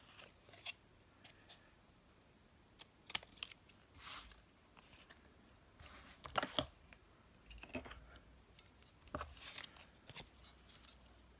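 Scissors snipping paper to trim an angle off journal embellishments, a series of scattered faint crisp cuts with soft handling rustles between them, close and quiet.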